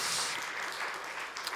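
A church congregation claps briefly after a barbecue meal at a New Year's Eve service, soft and diffuse applause fading toward the end.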